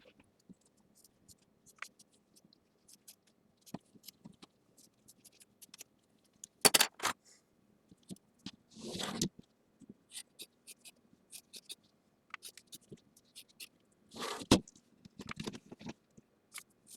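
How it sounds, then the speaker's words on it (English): Quilt block fabric edges being trimmed, likely with scissors or a rotary cutter, giving quiet, scattered cutting clicks and snips with a few louder bursts, close and soft in a calm room. "Now let's trim out those edges."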